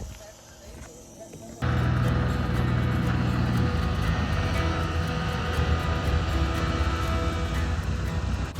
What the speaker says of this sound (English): this is the plane we're gonna be going out on right here. Just landed here on the water.